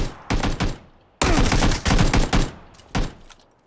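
Suppressed gunfire in a first-person shooter comes as clustered bursts of rapid shots, loud and close, with brief pauses between volleys.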